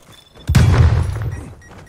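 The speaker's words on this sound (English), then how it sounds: "Stun grenade out." A stun grenade goes off in Call of Duty Cold War, one sudden heavy boom that rumbles and fades over about a second, close and loud with no talk.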